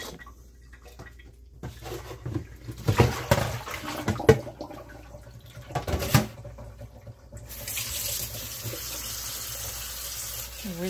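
Salad greens rinsed under a running kitchen tap, a steady hiss of water splashing into the sink with some clunks and handling noises partway through, then a broader, brighter flow toward the end.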